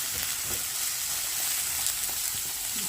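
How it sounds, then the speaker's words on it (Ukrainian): Chopped onion frying in a small amount of oil in a pan, a steady close hiss and sizzle with faint crackles throughout and no talking. "І смажимо цибульку на невеличкій, отака зовсім мало олійки, тільки щоб не пригоріло"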